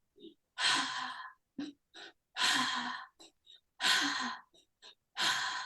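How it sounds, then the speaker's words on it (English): Deliberate breathwork demonstration: two quick layered inhales, belly then chest, followed by a long forceful exhale, repeated three times in a steady rhythm, close and loud, with small catches of breath between cycles. "So 2 inhales, 1 exhale."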